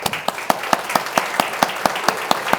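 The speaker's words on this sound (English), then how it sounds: "let's show our appreciation for everyone in this room that does so much with a round of applause" Audience applause at a valor awards dinner, a roomful of people clapping in a brisk, even rhythm, close and lively, with no talk over it.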